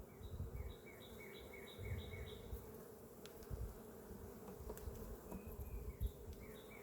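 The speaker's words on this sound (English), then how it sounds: "there's a big ball of bees right here" Honey bees swarm around an open beehive, a big ball of them clustered near the grubs, giving a steady, close, low buzzing hum that runs throughout, with a few higher bird calls repeating faintly in the background.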